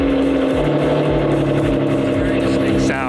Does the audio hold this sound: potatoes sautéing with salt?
no